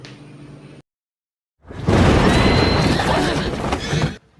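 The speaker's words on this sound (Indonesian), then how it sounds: "Semua kuda pun panik dan berhenti." Panicking horses in the film Pilgrimage: after a brief drop to silence, a loud burst of shrill neighing and whinnying with clattering hooves and commotion fills a couple of seconds before cutting off abruptly.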